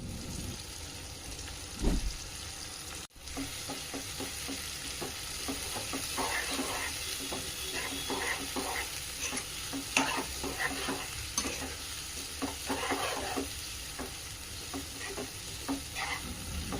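A spoon stirs kanda poha with turmeric, salt, green chilli and chopped coriander in a pan, giving steady soft scraping strokes over a gentle sizzle, close and continuous with no talk.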